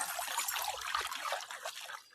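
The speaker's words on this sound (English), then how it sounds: "arise, cup, water come forth" Water conjured by a spell in a fantasy anime fills a cup with a steady, close trickling and splashing stream that fades near the end, with no voices.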